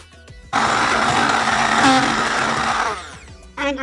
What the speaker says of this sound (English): I'm just gonna then whisk that up